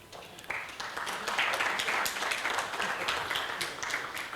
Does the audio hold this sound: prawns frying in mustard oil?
no